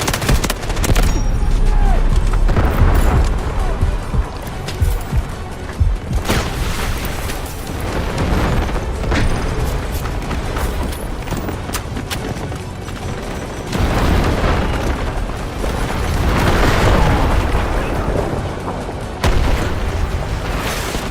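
Artillery barrage in the shooter game Delta Force: a long run of heavy booming blasts and rumbling impacts, loud and continuous with crackling debris, while voices call out briefly underneath.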